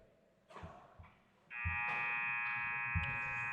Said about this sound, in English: With the buzzer going, that will do it here for the first.